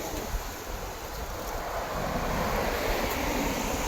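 Steady wind rushing and buffeting across the microphone, a broad continuous roar that swells slightly louder partway through, with no voices.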